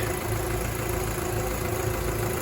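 A Rover 45's 1.6-litre K-series petrol engine idling with the bonnet up, a steady close mechanical hum with an even low throb and no talk.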